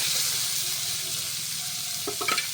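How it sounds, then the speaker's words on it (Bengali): Chopped onions sizzle in hot oil in a pan for a butter chicken dish, a steady close frying hiss with a few brief clinks from stirring near the end. "পেঁয়াজ কুচি দিয়ে দেবো।"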